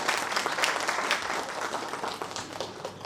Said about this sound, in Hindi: उनका भी एक बार जोरदार तालियों से स्वागत करें।